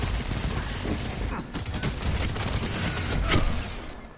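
The KMS assault rifle in Destiny 2 fires in continuous dense bursts, a loud rattling barrage that fills the whole stretch with only brief dips, while a voice talks faintly underneath.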